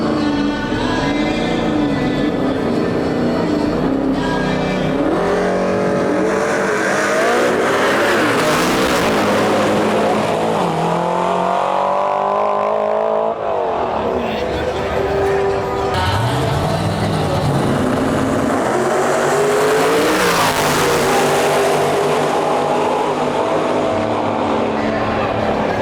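Pontiac GTO and a turbocharged LT-powered Mustang race cars accelerating hard down a drag strip, loud sustained engine roar with rising and falling pitch sweeps as they pass, continuous throughout with crowd or announcer talk faintly beneath.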